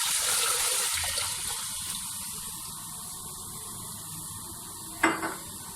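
Water gushing steadily from a pour into a cooking pot of whole masoor lentils and rice, a continuous splashing wash at moderate level, ending with a brief clink of the pot near the end.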